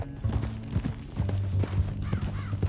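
Horse hooves clip-clop in a Red Dead Redemption 2 game scene, a steady run of close hoofbeats with low rumbling underneath and a brief whinny-like tone near the end.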